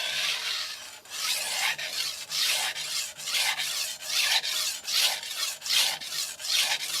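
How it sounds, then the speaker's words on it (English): A knife is drawn in steady, regular strokes across a 400 grit extra hard vitrified diamond whetstone, each stroke a loud, close, raspy scrape repeating about every half second with no speech. "I'm going to do regular strokes with light pressure"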